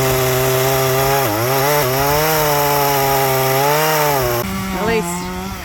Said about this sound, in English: So he's cutting this big tree with the little chainsaw.